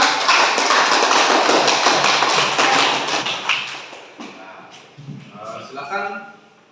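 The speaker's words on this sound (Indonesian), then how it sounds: "Tepuk tangannya untuk kelompok 3." A classroom audience claps for a group of students after a Hindu religion lesson presentation, dense loud applause at first that thins and fades into scattered claps and voices near the end.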